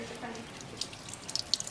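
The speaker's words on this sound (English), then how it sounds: "she's washing it off to get the zinc and sodium hydroxide off" Tap water running into a sink while a penny is rinsed of zinc and sodium hydroxide, a soft steady wash with a few small bright drips and splashes near the end.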